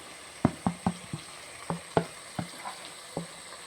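Spice powders (chicken masala, coriander, turmeric and chili) fry in oil for a beef curry with a quiet sizzle, and a spoon stirs and scrapes the pan about ten times in uneven strokes.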